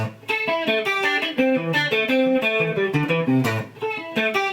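Distorted electric guitar picking an interlocking 5/4 phrase, a quick busy pattern of single notes repeating with slight variations, steady and moderately loud, no voices.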